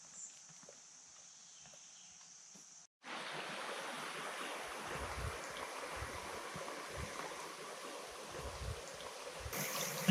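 A river flows nearby in a steady, soft rush of water, continuous and fairly faint after a quiet opening.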